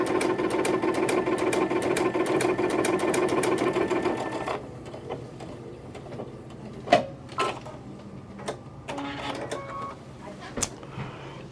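A sewing machine runs steadily for about four seconds while sewing a wide wave stitch, then stops, leaving soft clicks and handling noises in a quiet room.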